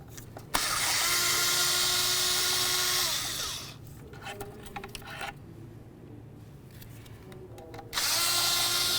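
A power tool whirs steadily while removing 8mm thermostat housing mounting bolts on a 2006-10 Ford Explorer. It runs in one long close burst, then pauses with small shop noises, then whines again near the end.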